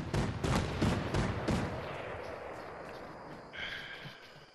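Gunfire in the video game Fortnite, a rapid burst of several loud close shots in the first two seconds fading into a decaying tail, followed by a brief higher electronic tone.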